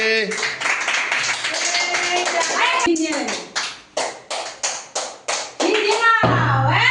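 Children clap their hands during a fruit-flipping game, a run of sharp, separate claps in the middle, set among lively children's talk and shouting.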